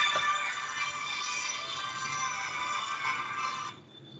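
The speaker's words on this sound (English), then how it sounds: "I'm getting a phone call and just answer that." An incoming call rings as a steady electronic ringtone, a continuous bright tone that plays for several seconds and then cuts off abruptly.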